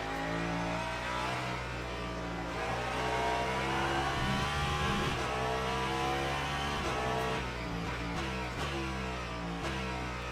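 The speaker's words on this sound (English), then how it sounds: "Caddy sounds pretty great in person." Cadillac race car engine in Le Mans Ultimate at Spa, a steady strong mid-pitched drone holding high revs with brief gear-change dips near the end, alone with no talk.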